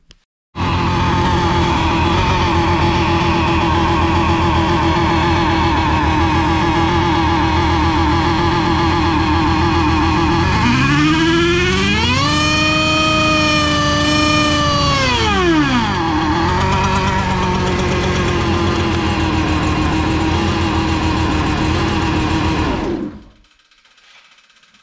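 A 1961 VW Beetle's small air-cooled engine runs steadily, then revs up and down in pitch as it accelerates and shifts, continuous and close, ending abruptly.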